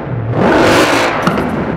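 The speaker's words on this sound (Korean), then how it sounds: "바로 엔진 소리 들어볼게요." A Mercedes-AMG engine starts and revs, a loud broad roar that swells and holds for under two seconds with a brief click near the end, no talking.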